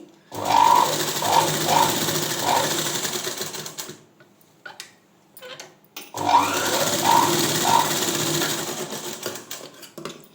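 A sewing machine with a normal presser foot stitches thread piping on cloth in two fast, loud bursts of rattling needle strokes, separated by a quiet pause near the middle.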